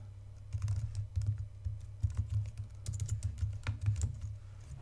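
Someone types an email address on a computer keyboard, producing a steady, moderately quiet patter of key clicks in uneven bursts over a low background hum.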